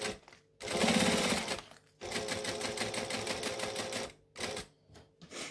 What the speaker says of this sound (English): Where are we stitching? Okay, yep, so we're just going to go straight across.